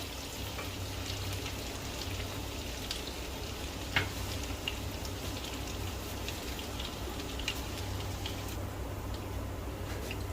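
Crushed garlic fries in butter and olive oil in a wok, giving a steady, soft sizzle broken by a few sharp pops throughout, with no voices.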